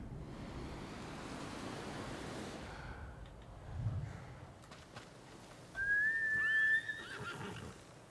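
A horse in the video game Ghost of Tsushima gives one loud, clear neigh against a soft wind-and-surf ambience.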